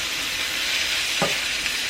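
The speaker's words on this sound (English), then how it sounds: "Now I'm going to add in my onions and my pepper." Onions and pepper hit a hot pan and sizzle steadily at close range, with a short soft clatter partway through and no voices.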